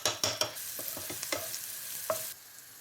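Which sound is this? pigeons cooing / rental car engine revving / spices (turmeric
spices (turmeric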